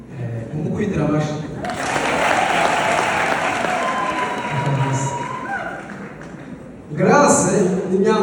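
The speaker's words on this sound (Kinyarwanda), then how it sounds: "umukubitira amashyi." A wedding crowd applauds Grace with a dense, loud burst of clapping and some cheering that lasts several seconds, with voices talking over it at the start and end.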